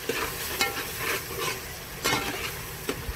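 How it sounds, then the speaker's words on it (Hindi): Turmeric, coriander and garam masala powders roast in a pan with a quiet sizzle, broken by repeated scraping strokes of a spoon against the metal. "इसे अच्छे से भून लूंगी।"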